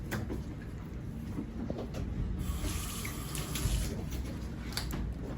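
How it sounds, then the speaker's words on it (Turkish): Tap water runs steadily into a sink while a fish, a large tub gurnard, is scrubbed clean with a brush, with soft splashing and a few light knocks close by and no talking. "Güzelce yıkacağız balığımızı fırça yardımıyla."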